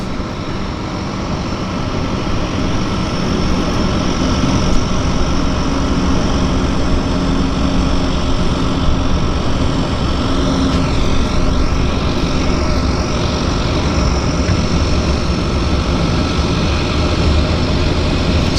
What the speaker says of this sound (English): We've got a Twin Otter on approach.